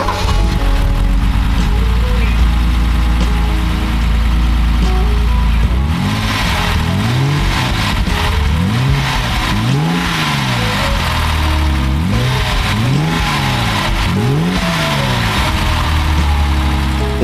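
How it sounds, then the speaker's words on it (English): A 1969 Mercedes 280SL Pagoda engine, with freshly cleaned fuel system, runs at a steady idle, then revs up and down repeatedly in rising and falling sweeps, loud and close. "we cleaned out the fuel system and got it running, and the engine sounds real good"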